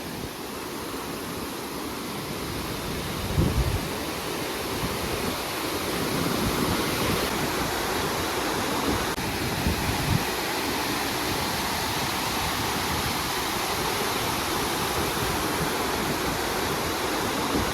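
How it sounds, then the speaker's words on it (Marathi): Ruichonda Waterfall near Mandohol Dam roars steadily, a dense, continuous rush of falling water close by, loud and unbroken throughout with no voices. "कसलं जोरात पाणी वाहत आहे"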